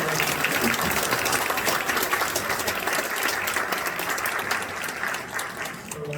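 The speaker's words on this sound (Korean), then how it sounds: "우리 축복의 박수 쳐주시기 바랍니다" A church congregation at an outdoor Sunday service in Seoul applauds in blessing, a loud, dense wash of clapping that continues steadily and eases slightly near the end.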